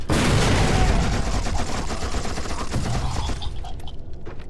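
Rapid machine-gun fire in the shooter game You Are Empty, a dense, loud, continuous burst close up that thins out and fades toward the end.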